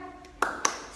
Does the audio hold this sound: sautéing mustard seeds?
no